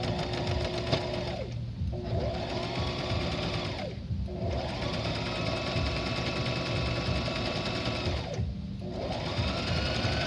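A sewing machine stitches an overlock seam finish. Its steady, close motor whir runs continuously, with three short dips in speed spread across the stretch.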